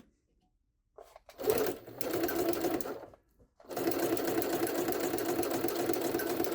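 A Jaguar SJ-23 sewing machine with a pleating mechanism runs in two steady bursts, stitching pleats into fabric. The near, continuous mechanical whir pauses briefly between bursts, with no talk.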